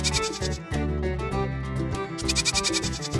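A goat in a Hindi story bleats loudly and repeatedly, a run of wavering, nasal calls heard close up over a continuous background bed, with no talking.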